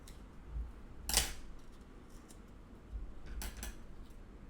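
Scissors snip a short slit into cardboard while a cat model is being built, with one sharp, close cut in the middle and a second quieter pair of snips near the end over a soft background.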